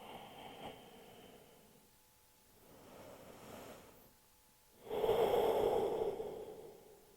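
Slow breathing during a yoga resting pose: soft, faint breaths early, then one louder, close exhale near the end.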